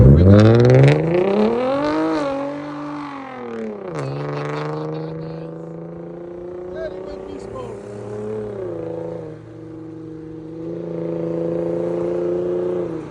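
A Hyundai Genesis 3.8L V6 with loud aftermarket exhaust revs up and pulls away, its exhaust note climbing in pitch, dropping with a gear change, then droning steadily as it drives off.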